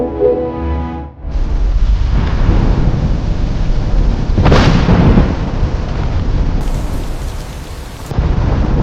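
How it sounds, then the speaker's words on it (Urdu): A lightning strike cracks out with a long rumble of thunder amid steady heavy rain, loud and close, with a sharp peak midway through the storm. "آسمانی بجلی گری اور سب کچھ جل کر راکھ ہو گیا"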